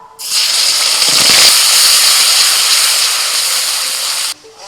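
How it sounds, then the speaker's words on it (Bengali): Ground onion, tomato, green chili, ginger and garlic paste hitting hot oil gives a loud, close burst of hissing sizzle that holds steady for about four seconds and then cuts off abruptly. "পেঁয়াজ টমেটো কাঁচা লঙ্কা আদা রসুন তেলের মধ্যে দিয়ে দিচ্ছি"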